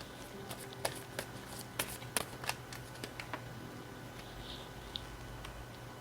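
Tarot cards are shuffled and laid down by hand, giving light scattered taps and soft flicks over a quiet background, with a few sharper card snaps early on.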